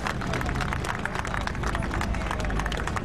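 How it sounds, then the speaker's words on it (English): Applause from a crowd greeting a rescued Chilean miner, Juan Andres Illanes, a dense, steady wash of clapping and cheering mixed with crowd babble, loud and sustained throughout. "That applause is so deserved"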